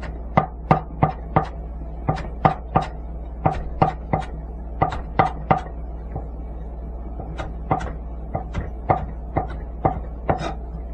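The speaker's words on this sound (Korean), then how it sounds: "채 썬 대파는 모아서 다집니다." A knife chops shredded green onion on a cutting board in close, crisp knocks that come in quick bursts of three or four, with short pauses between them. No one speaks.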